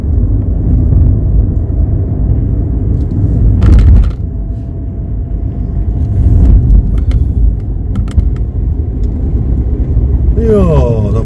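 A car drives along the coast of Madeira toward Funchal, with a loud, steady low road rumble and engine drone heard from inside the vehicle, while people talk over it.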